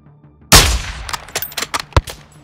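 A sniper rifle shot in Call of Duty Modern Warfare 2 cracks out loud and alone, then trails into a string of sharp, fading echoes and distant reports.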